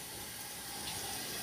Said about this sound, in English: Still pouring water, but it's extremely light.